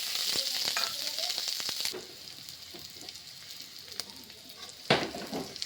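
Onion, ginger and garlic hit hot oil with spices for a Bengali shukto, sizzling loudly at first, then settling into a steady, softer frying hiss, with a sharp fresh burst of sizzle near the end.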